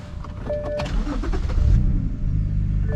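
A BMW 128i E82 engine cranking and catching in snowy weather, a close rough turnover with whirring starter tones settling into a steady low idle.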